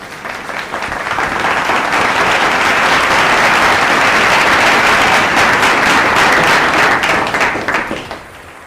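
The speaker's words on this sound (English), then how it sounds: "All the winners can stand and clap." Audience at a college Freshers' Day event clapping for the winners, a dense, loud applause that swells quickly, holds steady for several seconds, then tapers off near the end.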